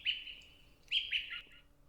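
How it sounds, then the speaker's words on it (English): A small bird chirps in bright, slightly falling calls: one note, a pause, then two quick ones close together, faint and alone. "I can almost hear the birds sing."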